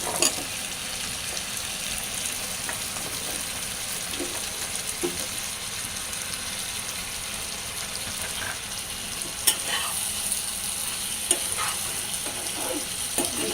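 Potatoes frying in a pan, a steady broad sizzle with occasional spatula scrapes as they are stirred, close and continuous with no talking.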